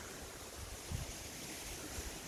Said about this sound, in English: It's pretty windy out here today